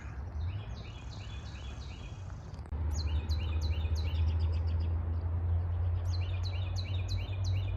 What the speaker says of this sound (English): Some yellow rump warblers flying around right in here.